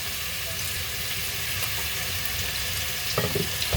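Raw peeled shrimp hitting a tablespoon of hot oil for a Filipino bitter melon stir fry, giving a loud, dense, continuous sizzle, with a few sharper crackles and stirring scrapes near the end.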